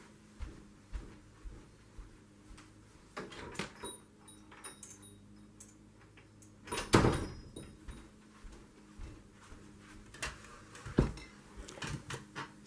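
A door opened indoors to let a cat in, with quiet thunks, a latch rattle and a clattering knock mid-clip among scattered small household clicks in a calm room.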